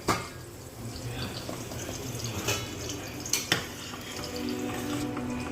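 Vegetables boiling and onions cooking on a gas stove for homemade veg pulao, a steady low bubbling and sizzling with a few light clinks of utensils, and someone speaking in Gujarati over it.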